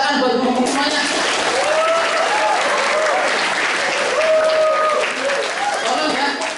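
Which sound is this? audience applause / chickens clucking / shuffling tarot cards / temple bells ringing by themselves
audience applause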